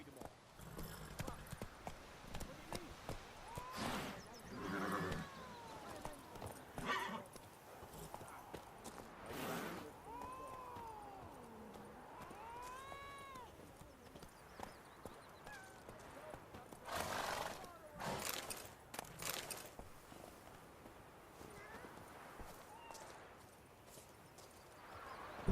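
Roach, the horse from the video game The Witcher 2, gallops with rhythmic clip-clop hoofbeats and lets out several whinnies and snorts over about twenty-five seconds, while someone talks intermittently over the sounds.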